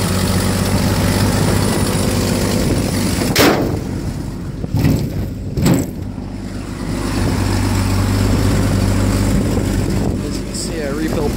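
A Stovebolt engine idles after a cold start, a loud, steady rumble broken by a few sharp pops and brief surges.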